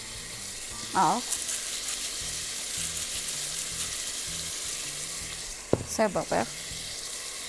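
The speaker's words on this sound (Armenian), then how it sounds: "Մի քիչ էլ ենք մարացնում, որպեսզի աղացած միսը սենց փոքր կլոր կտորներ լինեն։" Minced meat sizzles steadily in a hot pan while being stirred, with a few brief scraping sounds; a voice speaks briefly over the frying.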